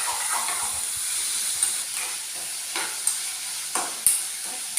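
Onion and brinjal sauté with salt in hot oil in a pan, giving a steady close sizzle broken by regular scraping taps of stirring, with no voices.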